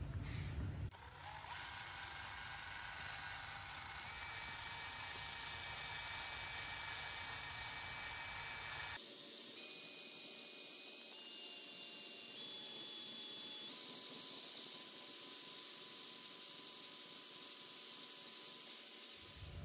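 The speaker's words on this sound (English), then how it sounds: "normally I say don't use a drill mixer when you only have a little bit" A steady mechanical whine from a drill mixer running at low speed while stirring epoxy, for the whole stretch, with a shift in pitch and tone about halfway through.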